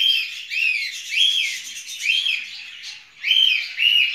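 Newly hatched budgerigar chicks in a breeding box chirp in a rapid series of thin, high, rising peeps, close and fairly loud, with brief pauses between bursts.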